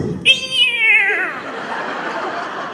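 A cat from a TV advert showing a dog and cat eating from the same bowl lets out one clear, loud, drawn-out meow that slides downward, then fades into quiet background murmur.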